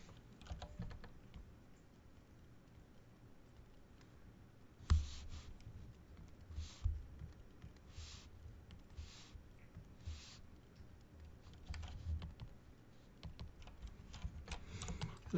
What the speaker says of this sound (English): More keystrokes.